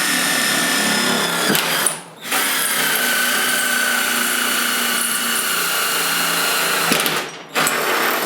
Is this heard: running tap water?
no